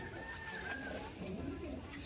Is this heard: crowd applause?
no